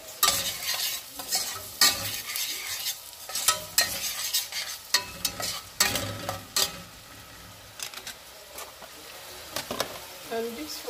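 Onions cooking in a second pot give off a soft sizzle, while a spoon scrapes and stirs in irregular bursts. The sounds are close and moderately loud, with a little faint talk in the background.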